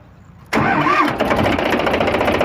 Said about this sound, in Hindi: तो सबसे पहले हम ट्रैक्टर को स्टार्ट ही कर लेते हैं